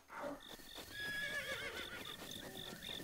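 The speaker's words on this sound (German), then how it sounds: "So, Epona. Dann komme, mein Ross. Wir reiten weiter." Epona, the horse in Zelda Breath of the Wild, gives repeated whinnies and neighs over steady clip-clopping hoof beats, with game music in the background and no talking.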